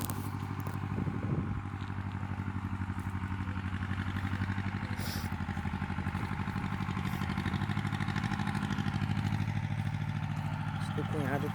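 A tractor engine runs steadily on a farm at evening, a continuous low mechanical drone and clatter under nearby talk, with cattle and orange trees around.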